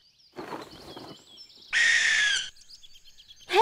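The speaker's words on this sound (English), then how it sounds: "it looks like an owl, but it doesn't sound like the owl from my toy" An owl calls with no hooting: raspy, hissing screeches and high wavering whistles in short separate bursts, fairly close, with one loud harsh screech in the middle and quiet gaps between.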